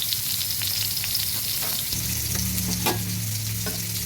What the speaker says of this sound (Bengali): শুকনো লঙ্কাগুলো ভেজে নিচ্ছি।